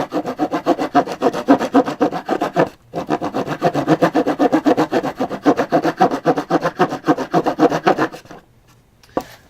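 Multifunction axe used as a saw, cutting a groove into wood with steady back-and-forth rasping strokes, loud and close, pausing briefly near three seconds and stopping just before the end.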